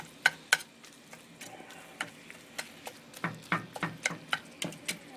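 A spoon stirs onions and ground meat in a skillet for slumgullion, giving irregular scraping knocks over a soft sizzle. The strikes are sparse at first and come quicker toward the end.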